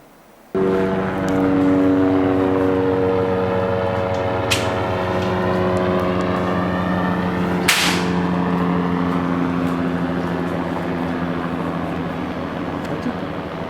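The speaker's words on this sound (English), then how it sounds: "There'll be a helicopter again." A helicopter passes overhead above a house, a loud, steady droning roar whose pitch slowly drifts as it crosses, with a couple of sharp clicks partway through and no talking.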